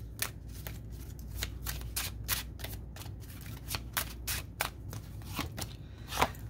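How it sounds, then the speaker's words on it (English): Tarot cards are shuffled with a crisp, rapid riffling and flicking, short bursts repeating over several seconds, close up with no talking. "All right, two more shuffles."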